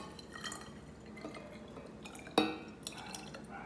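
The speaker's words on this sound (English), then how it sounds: "So see, I am adding some water into it." Water poured from a container into a half-liter bottle gives a soft, uneven trickle with small splashy drips and one sharper knock of liquid partway through. Close and fairly quiet, with no talking.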